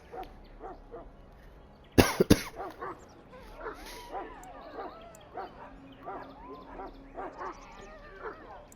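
A Mabari hound in the Dragon Age: Origins video game barks and yips repeatedly in a busy game scene. Sharp loud bursts come early, followed by softer whimpers and barks amid background chatter.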